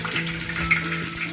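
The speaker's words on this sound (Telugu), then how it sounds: "ఆయిల్ వేడయ్యాక పొడుగ్గా కట్ చేసుకున్న పచ్చిమిర్చి ముక్కలు వేసుకోవాలి." Long-sliced green chillies hit hot oil in a pan for a curry, giving a steady close sizzle with faint crackles and a low hum throughout, no talk.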